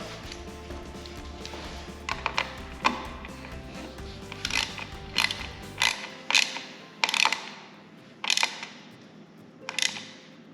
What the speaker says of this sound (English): Just grab the flathead screwdriver, pop this sucker off.